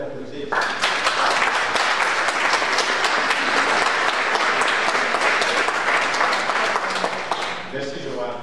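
Sustained applause from a church congregation on Palm Sunday fills the room, a dense wash of clapping rising after a brief spoken word and fading slightly at the end.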